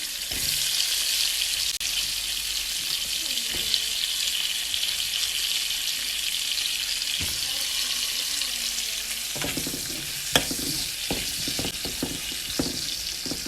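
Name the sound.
potatoes and onions sauteing in a pan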